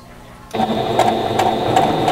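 Sewing machine chain piecing quilt block pieces, starting abruptly after a quiet moment and then running as a close, steady mechanical whir with rapid needle rhythm and periodic clicks.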